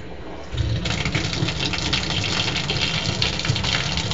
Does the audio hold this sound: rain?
no